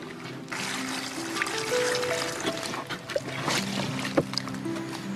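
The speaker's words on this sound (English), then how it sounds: "Now we'll just put the water in the plastic." Water is poured into a plastic sheet lining a hole dug in the ground, giving an uneven trickling, splashing pour with soft crinkles of plastic, close and moderately loud, running for several seconds without talk.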